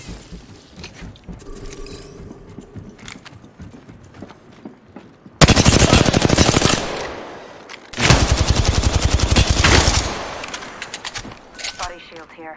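Bursts of automatic gunfire in the battle royale game Apex Legends, two loud sustained volleys with a short gap between them, following quieter game ambience and scattered distant shots.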